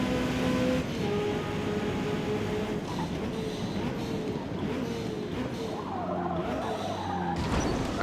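A race car in Forza Motorsport slides through a corner, its tires skidding and squealing over a steady engine drone, loud and continuous.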